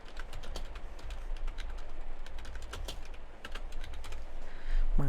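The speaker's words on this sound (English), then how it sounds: "Excuse my typing." Someone types on a computer keyboard in a fast, steady patter of close key clicks, with a louder thump near the end and no talking.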